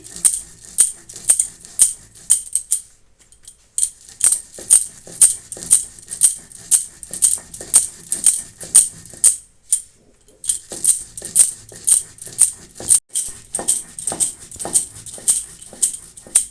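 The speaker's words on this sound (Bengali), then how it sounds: "চালটাকে এখন আমি গুঁড়িয়ে নিচ্ছি" Soaked rice is ground into damp flour for steamed rice cakes, heard as a steady run of sharp, evenly spaced strokes, close and crisp, with a brief pause partway through.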